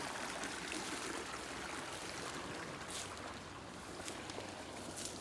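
Creek flowing after rain, a steady broadband rush of moving water, continuous and fairly soft, with no voices.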